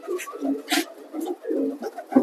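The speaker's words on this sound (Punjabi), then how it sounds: "ਸ਼ੌਕ ਕਬੂਤਰਾਂ ਦਾ" Racing pigeons coo nearby in repeated soft, throaty bursts, with some rustling and flutter-like noises mixed in.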